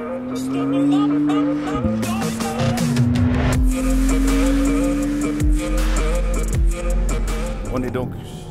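McLaren Artura V6 hybrid supercar on a race track, the engine note climbing steadily through gears with audible shifts and tire squeal, loud and close inside the cabin while a voice talks throughout.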